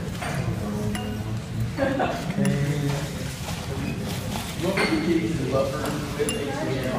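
A pH meter probe is stirred in buffer solution inside a container, giving light glassy clinks and taps close by while someone talks over them.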